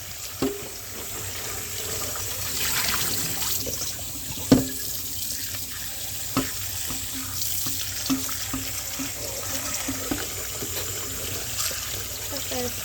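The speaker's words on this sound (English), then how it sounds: "let me turn the water off" A faucet runs steadily into a kitchen sink while rinsing fresh butter, a continuous watery rush with a few small clunks and splashes; someone speaks briefly underneath.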